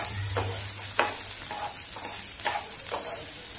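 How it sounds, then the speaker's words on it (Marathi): Chopped onion fries on high heat in a pan for a green chilli thecha, giving a steady, close sizzle with a few soft stirring strokes every half second or so, and no voices. "कांदा सुद्धा आपल्याला छान आता भाजून घ्यायचा आहे"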